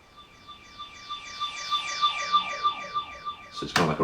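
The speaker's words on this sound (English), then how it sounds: "So it's kind of like a reverse sweep." A reverse sweep riser for a lofi hip hop piano beat, with repeated rising tonal sweeps over a steady high tone, building gradually in loudness before a sharp burst of noise near the end.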